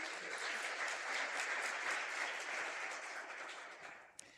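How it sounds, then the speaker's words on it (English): A conference audience at a savanna science meeting breaks into steady applause, dense and sustained for several seconds before thinning out near the end with a last stray clap. "Can we have a round of applause?"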